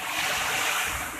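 Ocean waves washing onto a beach on the Indonesian south coast, a steady broadband surf rush with some wind noise, fairly close and continuous without pause.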